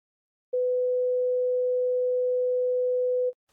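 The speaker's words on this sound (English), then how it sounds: "Something like pure tone is like this" A single steady electronic tone, clean and unwavering, sounds for about three seconds and then cuts off abruptly.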